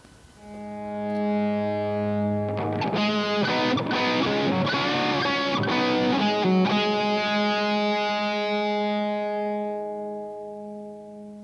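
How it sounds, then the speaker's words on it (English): Electric guitar through a crunchy, overdriven Pigtone Englishman Marshall-type distortion pedal, strumming chords that ring out and sustain before fading. "The Englishman distortion pedal from Pigtone. Marshall type distortion pedal"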